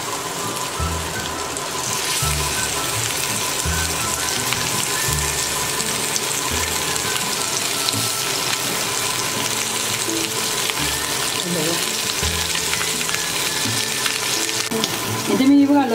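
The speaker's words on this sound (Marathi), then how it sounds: "आता यावर बांगडा ठेवून घेऊया आपण" Bangda mackerel frying in oil on a hot tava, a loud continuous crackling sizzle holding steady from start to finish, close up, with low kitchen clatter underneath and no talking.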